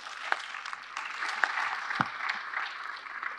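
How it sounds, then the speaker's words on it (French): A conference audience at a forum on Africa–Europe relations applauds steadily, a dense patter of many hands with a few sharper, nearer claps standing out, and no speech over it. "Sous vos applaudissements, mesdames et messieurs."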